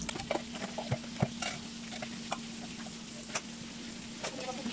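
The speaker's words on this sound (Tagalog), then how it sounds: "And then deep fry until golden brown." Breaded shrimp deep fry in oil with a soft, quiet sizzle, punctuated by scattered sharp clicks of a utensil stirring in the pan and a faint steady hum.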